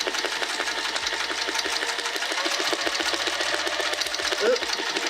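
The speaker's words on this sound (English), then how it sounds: "let's sew this down at the machine" A sewing machine stitches fabric in a steady, rapid mechanical chatter that runs continuously and close, with a brief quieter patch near the end.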